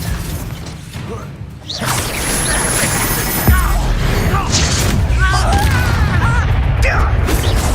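Incendio fire spell effect in a Harry Potter video game, a loud whooshing burst with crashing impacts and mechanical clatter amid steady game noise, with voices shouting over it.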